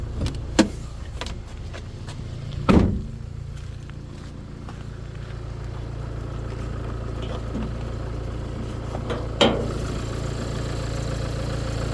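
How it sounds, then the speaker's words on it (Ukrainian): A Renault Trafic van with 18 thousand on the clock idles under the open hood, a steady low engine hum throughout with a few sharp clicks and knocks around it. "чиста робота двигуна, 18 тисяч пробігу, ніяких нарікань, не кидає масло"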